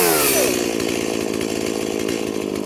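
A chainsaw cuts into a birch burl, starting with a rising rev and then settling into a loud, steady, close-up buzz as it bites into the wood.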